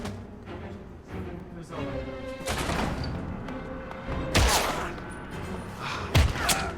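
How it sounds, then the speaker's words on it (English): Gunfire in the game Heavy Rain rings out as a series of sharp shots at irregular intervals, with two loud, punchy bangs standing out over a busy background of thuds and scuffling. "He just got shot, dude."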